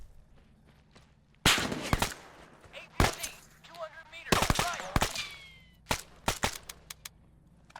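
Bursts of M113 armored personnel carrier machine gun fire in an Arma 3 battle, sharp rattling volleys, some close and loud, others further off, with scattered single shots between them and a low ambient rumble.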